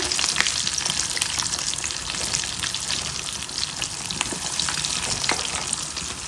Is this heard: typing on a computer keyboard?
no